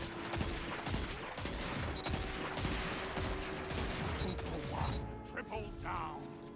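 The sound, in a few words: Dead Man's Tale scout rifle firing in video game Destiny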